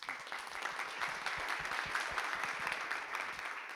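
An audience at a town hall for a food action plan summit claps steadily, a close crowd of many hands forming a dense, lively patter that holds evenly throughout without fading.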